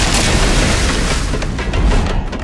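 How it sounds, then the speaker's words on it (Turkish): A dynamite blast in a Turkish film trailer comes as a loud, sustained booming rumble with heavy low end that holds for the whole stretch, then thins out slightly toward the end, with no voices. "Burada dinamite patlatmışlar."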